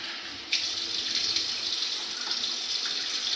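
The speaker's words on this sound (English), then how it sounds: "you wanna get your water running" Water starts running from a tap or shower and keeps up a steady, close hiss with no talking.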